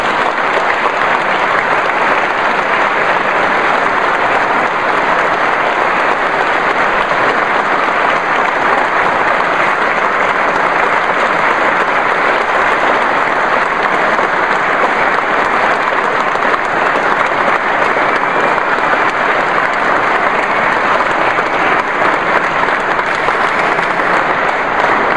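A large audience applauds continuously and loudly to welcome Curtis Johnson as Tulane's new head football coach, a dense, even wash of clapping that holds for the full stretch without a break.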